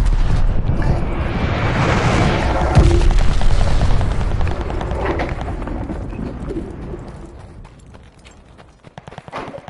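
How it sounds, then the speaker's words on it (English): A glide bomb explodes in a video game with a heavy, loud boom that rolls into a long rumbling roar and slowly fades, with scattered crackling impacts toward the end. "got a glide bomb incoming"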